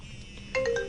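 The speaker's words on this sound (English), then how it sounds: "I got a phone call here." A phone ringtone for an incoming call starts partway through, a bright melodic tone rising over quiet background and carrying on to the end, moderately loud and alone.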